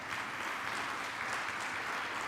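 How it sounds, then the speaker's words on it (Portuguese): A church congregation applauding together during a sermon on the Holy Spirit, a dense, continuous clapping wash that stays fairly even and moderately distant for its whole length. "aplauda o Senhor bem forte"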